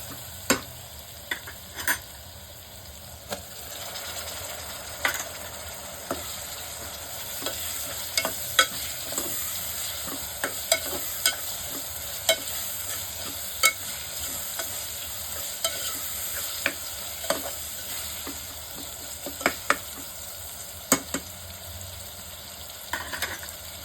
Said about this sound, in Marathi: बघा आपला चांगला फ्राय झालेला आहे